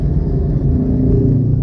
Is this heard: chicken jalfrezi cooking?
no